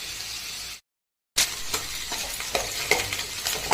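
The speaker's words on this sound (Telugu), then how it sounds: "ఒక కడాయి తీసుకొని కొంచెం ఆయిల్ వేసి అందులో శన వేసుకొని బాగా సగ్గాక" Chana dal sizzles and crackles in hot oil in a kadai, with close stirring and scraping. The sizzle stops briefly, then returns loud and busy with clinks from the pan.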